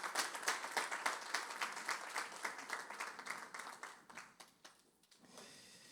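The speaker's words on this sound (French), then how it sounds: "On peut acclamer le Seigneur pour eux." Church congregation claps in warm, sustained applause to praise the Lord after the worship group's music, a dense steady patter that fades near the end.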